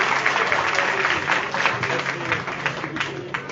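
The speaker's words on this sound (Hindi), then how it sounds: "तालियों में कमी नहीं हो जाए।" Audience at a social welfare trust annual day event applauds continuously, a dense, even clapping that holds steady for the whole moment with crowd murmur mixed in.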